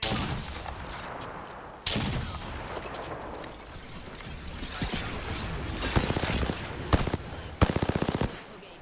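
Gunfire in Apex Legends, with dense automatic bursts and sharp single shots that build toward sharper, louder volleys near the end over a busy game soundscape.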